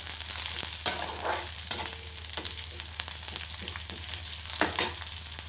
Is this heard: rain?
no